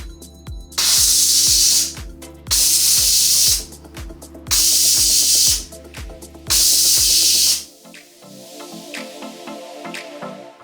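Pressure cooker cooking mac and cheese, releasing four loud bursts of hissing steam at regular intervals over a rhythmic ticking, rattling valve, then settling into a quieter bubbling hum.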